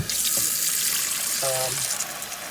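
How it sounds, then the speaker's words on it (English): Tap water runs steadily into a container of salt and vinegar brine for soaking collard greens, a close, continuous rushing hiss that holds through the whole stretch with no voices. "and I want to fill that with water."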